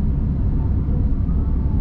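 A large truck rumbles slowly through a narrow, congested town-centre street in Itapipoca, Ceará, where cars park along the edges; a steady, close, low engine drone fills the whole clip with no talk.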